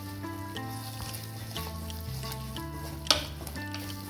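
Spices being sautéed in a pan for a shev bhaji curry, a quiet, steady sizzle with faint stirring and one brief sharp clink of a utensil.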